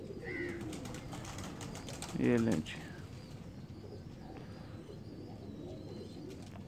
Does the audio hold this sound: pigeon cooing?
yes